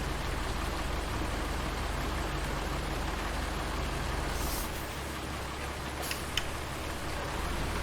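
Steady rainfall in the farming video game Farming Simulator 19, an even hiss of drops on surfaces with a faint low rumble underneath, lasting the whole time with no voices.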